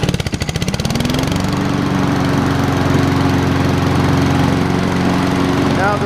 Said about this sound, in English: Now the mower deck is engaged.